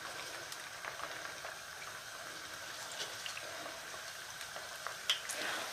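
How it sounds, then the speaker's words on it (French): Chicken samosas deep-fry in about two centimetres of hot oil in a large pan, giving a soft, steady bubbling crackle, fairly quiet and close, with a slight pop near the end. "vous mettez vos samosas à cuire, à frire"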